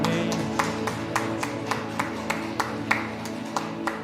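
A church congregation at a Friday prayer meeting claps in a steady rhythm of about three claps a second, each sharp clap standing out over a sustained musical backdrop.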